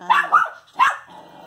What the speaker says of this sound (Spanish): El gato ni le importa que la perra le esté ladrando.